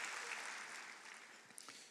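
An audience applauding in a hall, a steady wash of clapping that gradually fades, heard at moderate distance.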